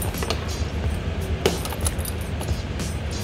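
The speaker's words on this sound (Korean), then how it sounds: "일단 키 열쇠. 열쇠를 가져다가" Scooter keys jangle with light metallic clinks over a steady background rumble, close and fairly brief.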